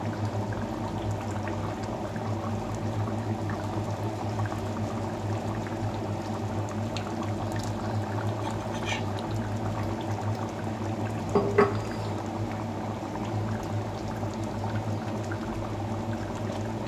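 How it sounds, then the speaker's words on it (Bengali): A pot of food bubbling and simmering on the stove, a continuous close gurgling boil with soft liquid pops and one brief clatter near the end, no voices. "একটু ফুটতে থাকুক"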